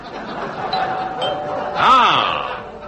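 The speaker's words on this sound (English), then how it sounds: "I heard the bell. It must be the first guests." A chiming bell rings once as a door signal, a bright descending tone standing out over a busy room with muffled voices and laughter around it.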